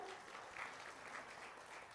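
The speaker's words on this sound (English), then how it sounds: "Give me a big clap" An audience at a sales seminar breaks into steady, sustained applause, a dense wash of many hands clapping that sounds faint and distant.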